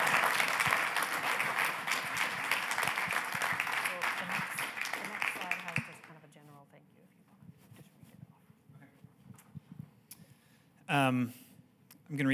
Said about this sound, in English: Let's give him a round of applause for all of his hard work.